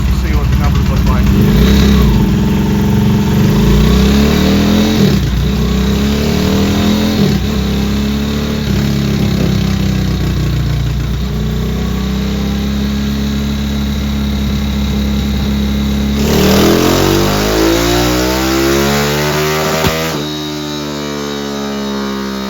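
A Honda Trail CT70 motorcycle with a 212cc engine revs hard and steadily on a mobile dyno in third gear. The loud engine drone holds for about twenty seconds, with pitch shifts near the end and mains hum underneath.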